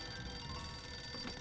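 A telephone rings in the adventure game Sam & Max Save the World, a faint steady electronic ring sitting over low background noise.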